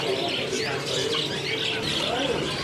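Caged birds, among them canaries, chirp and tweet at a busy bird market, with dense overlapping high calls and some cooing that run steadily throughout at moderate volume.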